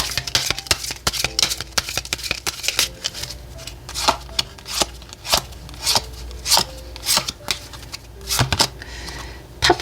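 Lenormand cards shuffled close by, quick papery riffles and slides arriving in bursts with short pauses, no talking.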